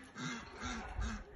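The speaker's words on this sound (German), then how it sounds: "Ja, Enten." Ducks quack a few times, close and clear, in a short burst of two or three calls outdoors.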